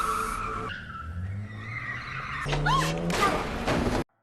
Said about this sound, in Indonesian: Di parkiran seseorang mengemudikan mobilnya. Baru juga Dongso akan menerima panggilannya, tiba-tiba mobil itu menabrak mereka